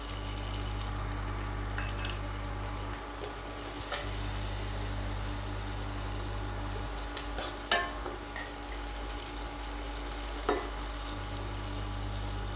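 Onions and tomatoes frying in a pan, a quiet constant sizzle under a low background hum, with a few sharp clicks and knocks of stirring scattered throughout and no speech.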